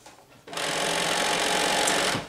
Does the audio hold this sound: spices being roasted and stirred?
no